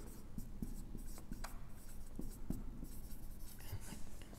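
A pen writes on paper during a chemistry lesson, making faint, steady scratching strokes with small taps, quiet and close, with no talking.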